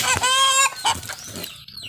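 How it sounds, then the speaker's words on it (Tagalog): Chickens on a farm on Isla del Fuego clucking close by, a few bright calls at the start followed by softer scattered clucks, with no talk. "ang mga manok dire."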